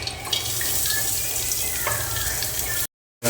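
Water pours steadily into a cooking pot for a Tamil potato and chicken kulambu, a continuous close splashing rush that stops abruptly near the end.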